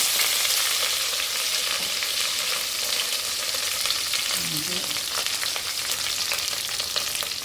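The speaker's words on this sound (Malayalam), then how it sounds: "ഒന്ന് ചൂടായി വരുമ്പോഴത്തേക്ക് കടുകിടാം. അതിലേക്ക് കറിവേപ്പില ഇട്ട് കൊടുക്കാം." Mustard seeds and curry leaves sizzle loudly in hot coconut oil, a steady dense frying hiss with crackling pops running throughout, close and alone with no voices.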